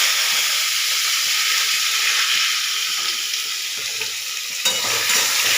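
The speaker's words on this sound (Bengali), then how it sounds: "এই আমি ওলকচু আর আলু দিয়ে দিলাম।" Chunks of elephant foot yam and potato fry in white oil, a loud, steady, close sizzle with a brief rise as the pieces are stirred toward the end.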